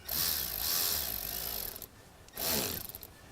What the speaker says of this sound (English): we can go ahead, tighten up our hose clamp